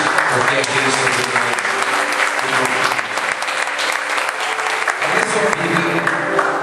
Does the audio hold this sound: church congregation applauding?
yes